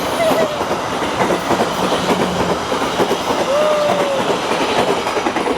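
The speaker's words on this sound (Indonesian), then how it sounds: "Itu tadi tuh kereta dari luar provinsi guys, dari Bandung." A short passenger train from Bandung rolls past close by, wheels clattering rhythmically over the rails with occasional brief squeals, loud and continuous throughout.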